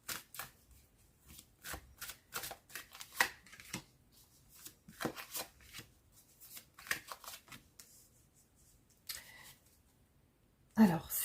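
Tarot cards are shuffled in quick, soft riffles and slaps, close and quiet, in uneven bursts with brief pauses, and a voice speaks faintly now and then.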